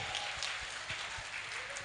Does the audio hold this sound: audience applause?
yes